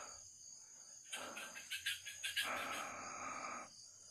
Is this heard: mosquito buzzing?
yes